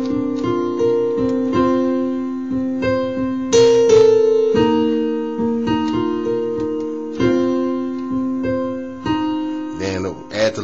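Piano playing the chord sequence from a worship song, slow sustained chords shifting every second or so, close and clear, ending with a brief rustle.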